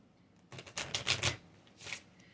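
A deck of angel cards is shuffled up close, giving a quick flurry of riffling card flicks in two short bursts with a brief pause between them.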